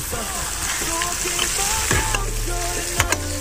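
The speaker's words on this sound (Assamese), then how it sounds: "এতিয়া মই মাংসখিনিয়ে ভাজি লওঁ" Marinated black chicken meat fries in a pan, Assamese-style, with a loud continuous sizzle and occasional clinks and scrapes from stirring.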